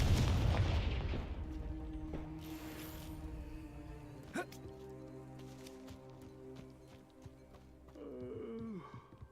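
The Confringo fire spell in the video game Hogwarts Legacy goes off with a deep explosive boom at the start that fades into a lingering rumble, followed by quieter game sounds and a faint later pop.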